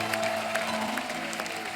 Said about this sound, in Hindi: आप सबकी जोरदार तालियों के बीच please welcome mister Altaf Raja.